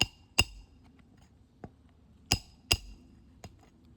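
A hammer strikes a part during a repair test, giving six sharp ringing blows at irregular intervals with quiet pauses between them.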